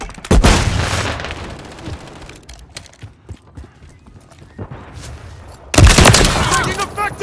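Gunfire and a grenade blast in a Call of Duty Modern Warfare 3 multiplayer Domination match, loud booming bursts at the start and near the end with scattered sharp shots and impacts in between.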